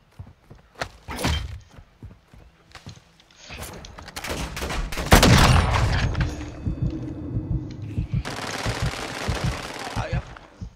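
Gunfire from Call of Duty: Modern Warfare 2 crackles in scattered shots and rapid bursts, with a loud blast near the middle and someone talking over the action.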